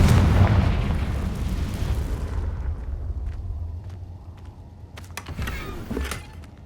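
A Confringo fire spell explodes in the Hogwarts Legacy video game, a loud close boom with a rumbling roar that slowly fades, followed by a few sharp crackling pops near the end.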